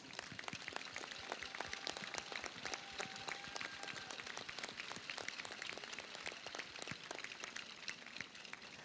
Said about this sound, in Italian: vi chiedo subito un grande applauso per questi ragazzi